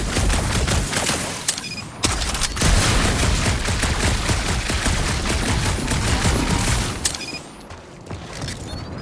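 Rapid bursts of gunfire in the Guardians of the Galaxy video game, loud sustained volleys of shots with sharp breaks between them and a brief lull near the end, no talk over it.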